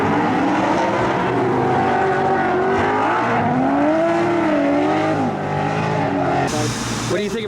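A drift car runs at Pikes Peak International Raceway, its engine note rising and falling in long sustained sweeps, loud throughout, with people talking over it.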